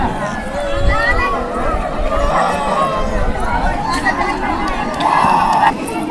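A packed Sawan mela crowd of pilgrims mills about, with steady babble and chatter, footsteps and shuffling, and close voices talking over the continuous din.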